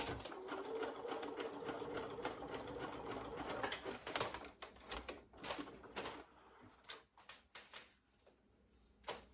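A sewing machine runs a zigzag stitch around interfaced fabric patches meant for pants, a steady close mechanical whir for several seconds that then breaks into shorter bursts and pauses.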